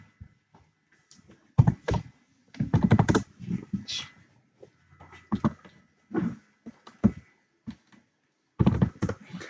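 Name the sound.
typing on a computer keyboard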